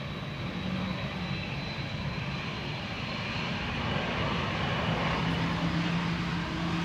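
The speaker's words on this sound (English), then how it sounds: "It's a KLM Dreamliner headshot." A KLM Boeing Dreamliner jet departs Schiphol's Polderbaan runway, its engines making a steady, broad roar that holds fairly evenly throughout, with no voices.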